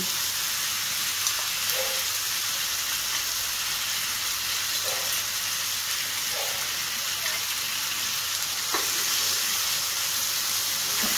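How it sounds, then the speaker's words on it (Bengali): Fried Loitte fish added to a pan of hot spiced oil and boiled potatoes gives a steady, dense sizzle throughout, with faint occasional pops and clicks and no voices. "এখন আমি এর মধ্যে ভেজে রাখা মাছটা দিয়ে দিচ্ছি।"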